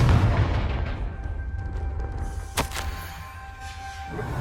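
A Confringo fire spell from Hogwarts Legacy lands as a single sharp blast against a low rumbling game soundscape, followed by a brief lingering hiss and tone.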